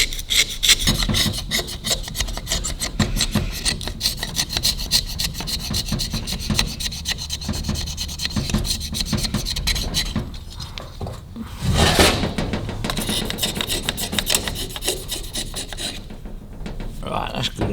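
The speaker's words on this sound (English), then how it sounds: "scraping it off with a knife" A knife scrapes carbon off a Harley piston in rapid, close, rough strokes, a continuous loud rasping that keeps up for nearly eighteen seconds with a brief louder scrape partway through.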